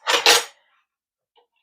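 Pots and dishes clatter at a kitchen stove as tomatoes are lifted out of boiling water for salsa, two quick loud clanks followed by silence, a faint tap and one more clink starting.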